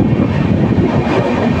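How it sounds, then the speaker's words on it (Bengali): Paharia Express LHB passenger train pulling out of Uluberia station on the South Eastern Railway, heard as a loud, steady low rumble and roar of rolling stock with no clear clatter or horn, running without a break. "গাড়ি এখন বেরিয়ে যাচ্ছে।"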